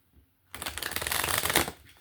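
A deck of cards is riffled in one quick close shuffle, a dense fluttering burst lasting just over a second after a brief quiet start.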